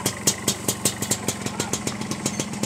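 A motorcycle engine idling nearby, its regular rapid putter pulsing evenly and steadily throughout.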